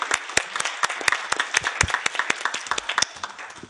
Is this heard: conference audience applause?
yes